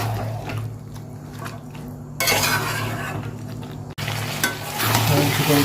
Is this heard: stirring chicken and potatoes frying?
yes